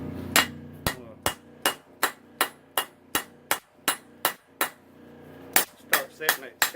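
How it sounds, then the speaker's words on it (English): A ball peen hammer strikes a small drop point knife blade on an anvil at the forge, a dozen sharp ringing blows in a steady rhythm with a brief pause before a final quick run. "I'm using my ball peen hammer now."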